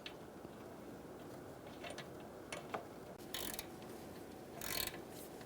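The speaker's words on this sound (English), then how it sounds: "Using a 5mm socket or wrench, snug the stud down, get it nice and tight" A 5mm socket wrench snugs down a stud on a 2014-2018 Chevrolet Silverado AC condenser, giving quiet, close ratcheting clicks in short irregular bursts with pauses between them.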